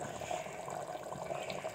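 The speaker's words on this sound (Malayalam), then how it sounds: "ബീഫ് മുങ്ങിക്കിടക്കുന്നത് വരെ ചെറിയ ചൂടുവെള്ളം ഒഴിക്കണം" Hot water poured into a pot of beef curry, a short, steady splashing stream of moderate loudness, heard alone without talk.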